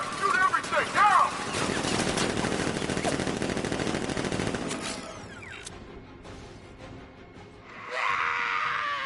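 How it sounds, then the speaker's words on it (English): Dense gunfire and rapid automatic bursts from Batman: Arkham Knight fill the first half, loud and chaotic with mechanical clatter, then fade into sparser impacts and a rising whoosh near the end. "Open fire! Shoot everything!"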